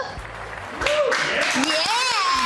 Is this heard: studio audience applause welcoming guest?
yes